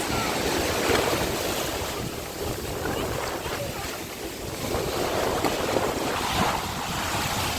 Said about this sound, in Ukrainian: дуже сильні хвилі, вони прямо